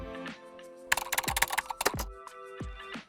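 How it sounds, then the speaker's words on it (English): Bursts of rapid keyboard typing, clustered clicks and clacks up close, separated by short pauses with a faint tonal background. "add a sound effect of typing on keyboards"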